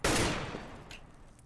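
An AK rifle fires through a wall on the Mirage map in CS:GO: one loud, sharp report up close with a long fading tail, then a faint, brief click near the end.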